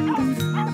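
A dachshund gives a quick pair of close, loud yappy barks with a slightly whiny tone, with nobody talking over them.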